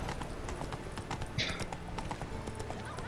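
Roach the horse gallops in The Witcher 3, rapid rhythmic hoofbeats clopping steadily throughout, with a brief snort partway through and a voice speaking faintly over it.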